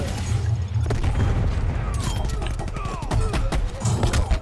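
Grenade blast in the video game Black Ops Cold War on the Nuketown map, with booming thuds and crackling gunfire over a steady rumbling game mix. The sound is loud and busy, with no talk over it.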